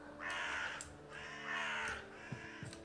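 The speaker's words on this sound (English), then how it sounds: "Some very realistic sounding crows there." Crows cawing in The Witcher 3 video game, two long harsh caws about a second apart, fairly close and clear, with faint ambient game sound underneath and no talk.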